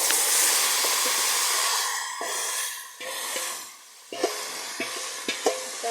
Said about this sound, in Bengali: নেড়ে কষিয়ে নেব। চুলা অনেকটা হাই হিটে থাকবে